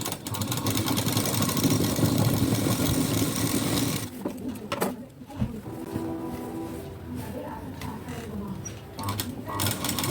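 A sewing machine stitches a folded blouse sleeve, its motor running in a steady, busy whir for about four seconds before stopping, then a voice talks over faint background noise.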